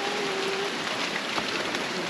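Steady rain falls on a mountain homestead in the Apuseni Mountains, a dense, even hiss of drops with no voices, close and continuous.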